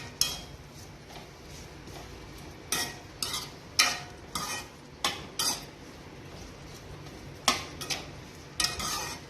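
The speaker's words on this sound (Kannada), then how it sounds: "ಈರುಳ್ಳಿನ ಹಾಕ್ಬಿಟ್ಟು ಕೆಂಪಗಾಗೋವರೆಗೂ ಫ್ರೈ ಮಾಡ್ಕೋಬೇಕು." Onions being stir-fried in a pan until reddish: a low sizzle under repeated loud scrapes and clanks of a metal spatula against the pan, coming in irregular bursts, close by and with no talk.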